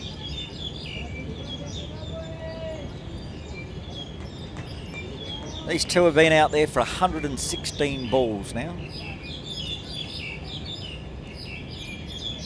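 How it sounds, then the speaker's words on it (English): Noisy birds chirp and call steadily at Kowloon Cricket Club during a Sunday cricket match, with a dense burst of louder calls midway, all beneath continuous commentary. "the very noisy birds move in to Kowloon Cricket Club"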